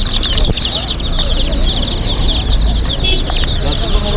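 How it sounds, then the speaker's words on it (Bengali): Chickens and chicks at a live poultry market cluck loudly and continuously nearby, with dense high peeping throughout and faint crowd voices behind. "মুরগি আছে মুরগির বাচ্চা আছে"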